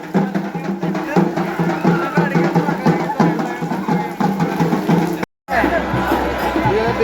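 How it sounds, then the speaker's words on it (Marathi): Crowd of devotees gathered at Tuljapur during the Navratri festival, a steady murmur of many voices and chatter with close talk over it, briefly cutting out near the end before the babble resumes. "आपण पाहू शकतो कशी गर्दी आहे"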